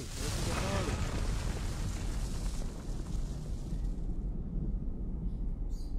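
An explosion in Attack on Titan 2 bursts with a loud, broad roaring blast that rumbles on for several seconds before thinning out, with game voices faintly mixed in.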